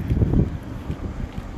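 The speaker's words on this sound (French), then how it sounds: "Oh le vent." Wind gusting outdoors beside the Nîmes water tower, the end point of the aqueduct from the Pont du Gard, buffeting the microphone as a low, rough rumble that is strongest in the first half second and then steadier.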